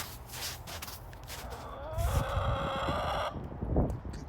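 Backyard hens in a coop and fenced play area cluck and call intermittently at close range, with a louder burst of squawking and shuffling midway, over low outdoor rumble.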